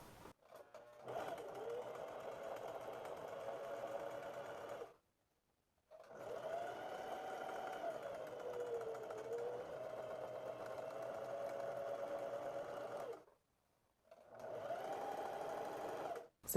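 A sewing machine stitches the crotch seam and waistband of elastic-waist shorts in three long steady runs, separated by short silent pauses.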